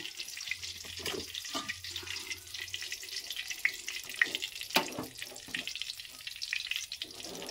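Potatoes frying in a pan of hot oil in a home kitchen, still wet from washing, giving a soft continuous sizzle and hiss with occasional spatters and stirring clatter, fairly quiet.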